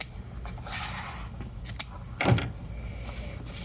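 Scissors snip through ribbon tails for a St. Patrick's Day swag decoration, one short crisp cut standing out near the end over faint background handling noise.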